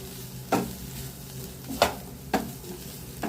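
Cauliflower stir-fry sautés in a pan, a continuous soft sizzle punctuated by four distinct stirring scrapes at roughly regular intervals, with no talking.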